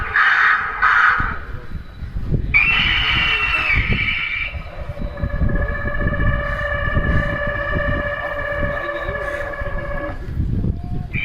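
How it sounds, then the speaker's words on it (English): Crows caw in a field around a wind-powered bird scarer for protecting crops, their harsh calls mixed with a steady whirring and tonal mechanical whine, with background noise throughout. "All the crows are flying away from the design."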